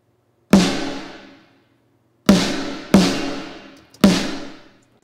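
Triggered rock snare sample from the RDD Rock Snares library, direct and room layers blended, struck four times with a long roomy decay ringing out after each hit, the last three closer together.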